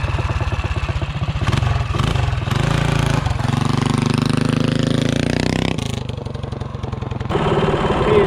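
A CT200U-EX minibike fitted with a short intake accelerates hard from 0 to 30, its engine revving loud and close with a steadily rising pitch that climbs for several seconds before easing off.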